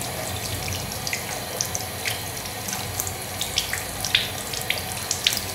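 Tap water runs steadily into a sink while hands are rinsed after soaping, a continuous close splashing hiss with small bright drips and spatters scattered throughout and no talking.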